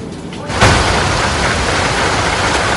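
Heavy rain in Agalawatte, Kalutara, Sri Lanka, during monsoon flooding beats down as a loud, dense, unbroken roar that swells slightly after the first half-second and stays steady throughout.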